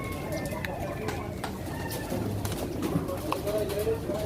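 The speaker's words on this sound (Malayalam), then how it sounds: "പ്രാവ്" Pigeons coo low and repeatedly amid a busy, noisy livestock market in Jeddah, with occasional sharp clatters.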